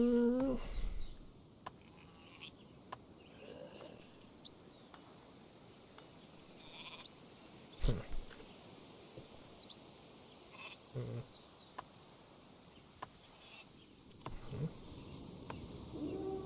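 Sheep bleating in the Viking strategy game Northgard, a few short bleats scattered across a quiet stretch among faint clicks and game effects, near and moderately loud, with no talk.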